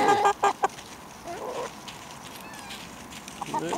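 Chickens cluck in short bursts up close, with a few sharper squawks and faint rustling between them.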